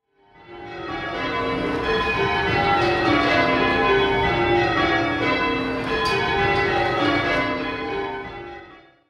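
Church bells ringing rounds in change ringing, a steady, continuous sequence of rich overlapping metallic tones sustaining for several seconds before fading.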